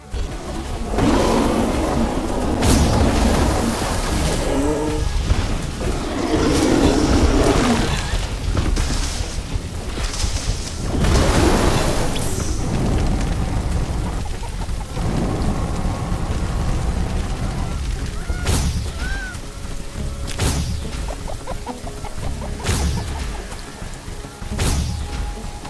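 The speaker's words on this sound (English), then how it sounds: "A very intense hailstorm is in progress." Heavy, continuous hail and storm din pounding through a sci-fi base-building game, with loud booming impacts and sharp cracks breaking over a dense roaring wash for the whole stretch.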